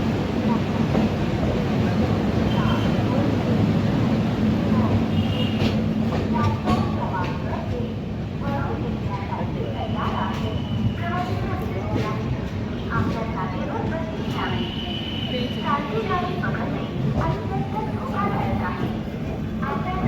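An express train from Harangul pulling into Pune Junction, a continuous low rumble with rhythmic clatter of wheels over rail joints heard from inside, steady and fairly loud, with voices murmuring beneath.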